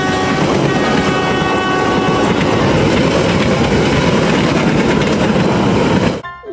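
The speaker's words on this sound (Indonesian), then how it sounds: "Lihat teman-teman, di sini juga ada kereta api." A toy train rolls along loudly and steadily, a dense, continuous mechanical rumble and rattle close by that runs without a break and cuts off abruptly at the end.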